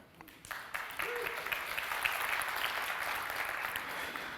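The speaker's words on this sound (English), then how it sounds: "So thank you for clapping." Audience applause at a talk on augmented reality, clapping swelling after a second and continuing steadily, moderately distant, with a brief voice at the start.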